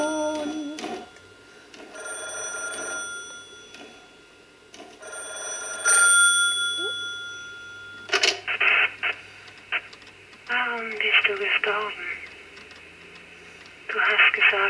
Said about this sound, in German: Telefon.